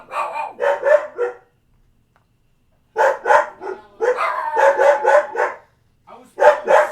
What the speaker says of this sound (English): I was throwing a sock for that dog.